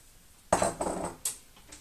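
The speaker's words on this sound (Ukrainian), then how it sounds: "Тепер кидаємо картоплю сюди" Potato pieces drop into a soup pot on a gas stove, landing in a short burst of clunks and splashes, then a second lighter plop, close and fairly loud with no talking.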